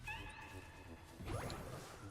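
A cat meows once inside a video game, a short in-game call sounding over soft background game music and ambience.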